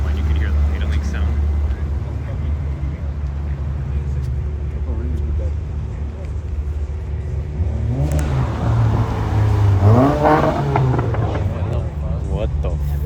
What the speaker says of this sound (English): you could hear the idling sound